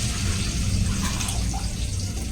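A cup of water splashes into a pot while cooking vegetable pulao with potato and capsicum, a steady close rushing pour throughout.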